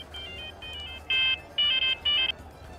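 A mobile phone ringtone rings in short, bright electronic bursts, with a few softer tones giving way to three louder pulses, alone over a faint low background.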